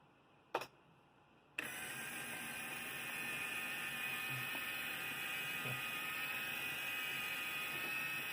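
Small electric linear actuator motor driving a lever in reverse, a steady mechanical whine that starts abruptly after a brief click and runs continuously at moderate level, alone without talk.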